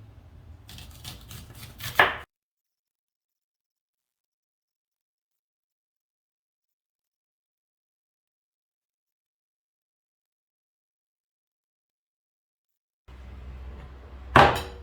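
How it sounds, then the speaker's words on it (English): Onions and peppers are chopped with a knife on a board in two short bursts of rapid, close chopping taps, one at the start and one at the end, with long silence between them. "the first thing we're going to do is chop up some onions"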